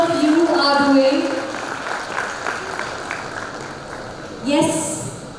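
Applause from a convention audience at a regional gathering in Nashik rises behind a voice, a steady mass of clapping that thins out before a brief fresh burst near the end.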